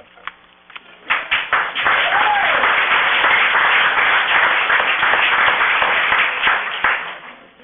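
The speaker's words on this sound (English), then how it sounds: "So if you could withhold your applause, that we'd appreciate that." An audience at a town council meeting breaks into applause after a few scattered claps, building into a loud, sustained round that tapers off toward the end.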